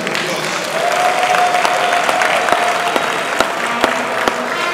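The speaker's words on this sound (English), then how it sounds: "please give her a standing ovation and a resounding round of applause" Audience applause at a Lagos fashion award show, a dense steady wash of clapping with a few louder individual claps standing out, and a voice speaking over it.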